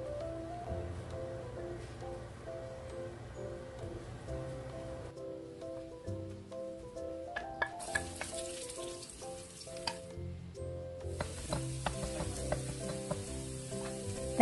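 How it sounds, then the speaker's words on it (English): Garlic sautéing in a pan, the first step of an odong noodle soup with clams, a quiet sizzle with occasional utensil clicks that grows brighter and hissier partway through. "So let us start by sauteing the garlic."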